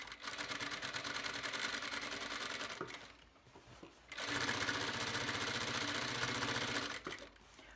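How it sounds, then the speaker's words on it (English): Close and loud, a sewing machine runs a long-stitch seam around a fabric edge in two sustained runs with a brief slowdown between them, its rapid mechanical chatter steady throughout. "you're gonna sew around the edge of the fabric"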